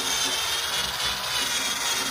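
Steady abrasive grinding on the rusty metal body of a Box Chevy during bodywork, a continuous rough scraping hiss that holds level and close throughout with no speech.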